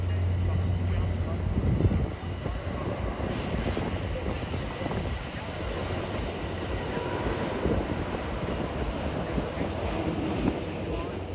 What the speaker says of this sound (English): a northbound Capital Corridor train departs for Sacramento, the ST-44 accelerating as the train clears the curve